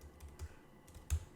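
Several soft keystrokes on a computer keyboard, quiet and close, irregularly spaced taps with one slightly louder press near the end.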